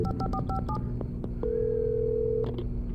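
Telephone keypad dialing in the Alan Wake video game: a quick run of several DTMF tones, then a long steady ring tone, over a low in-game ambient hum.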